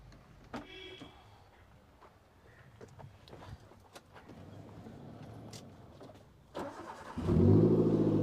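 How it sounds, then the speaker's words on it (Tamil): A modified Maruti Zen with a 1.8 L engine and stock exhaust turns over and settles into a low idle with a deep exhaust rumble, after a stretch of quiet clicks and shuffling. "ப்ரோ எக்ஸாஸ்ட் சவுண்டு பார்த்துடலாமா?"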